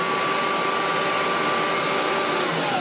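A 1989 Kirby Legend 2 upright vacuum cleaner runs with a constant loud whining roar and steady motor hum, unchanging throughout.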